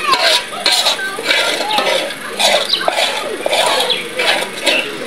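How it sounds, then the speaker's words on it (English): Garri being fried in a pot, a rhythmic scraping and stirring in dry granules with repeated gritty sweeps and a faint sizzle, heard close up. "So I'm going to fry this one once."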